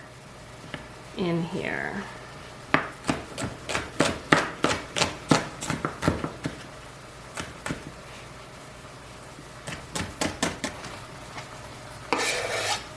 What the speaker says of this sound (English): I'm going to quickly chop 2 shallots